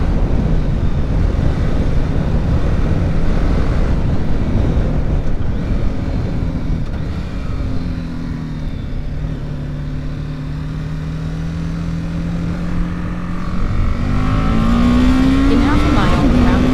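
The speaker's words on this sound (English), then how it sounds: "I like the way this bike sounds." Engine of a BMW 310 GS motorcycle on a road ride in Oregon, a continuous close drone with rising and falling pitch as the rider accelerates and eases off, mixed with wind rush.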